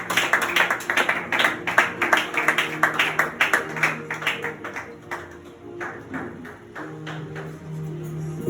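A church congregation claps in rhythmic bursts of steady, evenly paced hand claps, fairly close and lively, easing off partway before picking up again, with faint background tones beneath.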